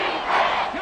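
A stadium crowd in Madden 24 roars on its feet during a tense third down, a dense, sustained wash of cheering voices, brief and loud.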